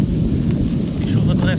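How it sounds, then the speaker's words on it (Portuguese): Torrential rain storm on a freezing, windy day with gusts around 80 km/h, a loud, steady broadband roar of pouring rain and wind buffeting the microphone throughout. "E chuva torrencial."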